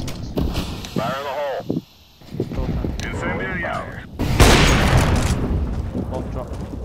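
A grenade goes off with a loud, sharp blast during a Counter-Strike: Global Offensive match, after stretches of gunfire and a voice calling out. The noise stays dense afterward.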